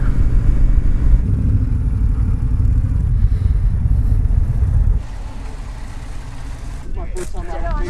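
A 2026 Indian Chief Vintage motorcycle rides with a steady, loud engine rumble and road noise, easing slightly after a few seconds, while voices talk over it.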